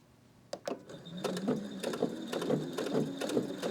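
A sewing machine stitches a seam on denim jeans, starting with a few sharp clicks and then settling into a steady, rhythmic mechanical chatter, fairly quiet and close, with no talking.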